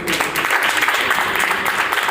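A seminar audience at a direct selling company event bursts into loud, dense, sustained clapping that fills the whole stretch without pause.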